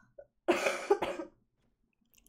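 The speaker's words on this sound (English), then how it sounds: "Again, excuse me coughing" One person coughs twice in quick succession, close and fairly loud, with a faint click just before and only quiet background afterward.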